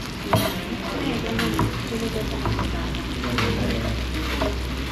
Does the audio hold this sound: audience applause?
no